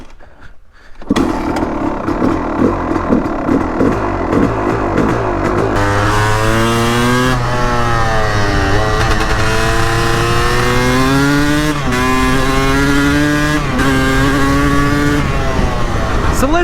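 A dirt bike engine starts up and runs loud and close, with the revs climbing and falling again and again as the ride gets underway.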